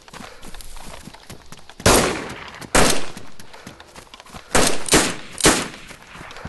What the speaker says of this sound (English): I think they're shooting zombies.